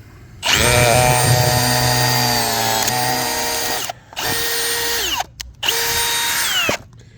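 A drill-powered wood splitting auger bores into backer wood with a loud, close, steady whine that holds for several seconds. Short gaps and a stutter follow before the bite resumes.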